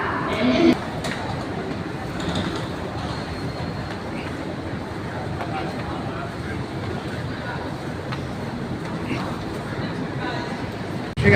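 Bangkok's City Line airport rail link electric train running, a steady close rumble and broadband hiss that holds evenly from start to finish.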